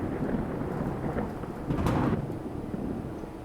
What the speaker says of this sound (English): the storm killed Gus